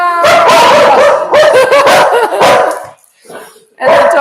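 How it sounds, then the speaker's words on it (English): Several dogs bark, yip and whimper excitedly indoors during an online wine tasting, loud and close in repeated bursts with a brief lull before barking resumes. "And the dogs are very excited."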